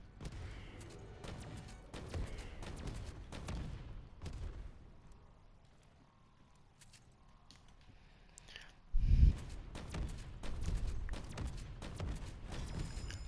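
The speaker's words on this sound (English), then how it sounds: "Just keep shooting until you get it." Gunfire in Black Ops 4 zombies, bursts of sharp shots and rapid fire, loud and repeated with a quieter lull in the middle, then a heavy blast and more sustained shooting.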